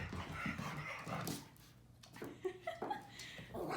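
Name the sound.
dogs barking and panting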